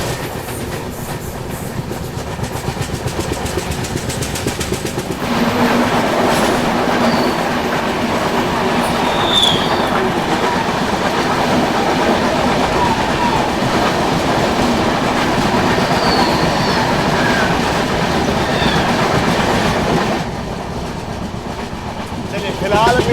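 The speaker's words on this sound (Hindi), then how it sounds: "अभी ट्रेन जो है दारा स्टेशन को स्किप कर रही है।" A train runs through the Dara ghat section without stopping at Dara station, its wheels clattering rhythmically at close range. The roar swells suddenly after a few seconds and stays loud before easing near the end.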